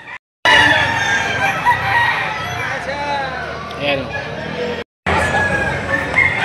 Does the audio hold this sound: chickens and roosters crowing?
yes